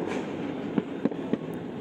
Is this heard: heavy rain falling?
no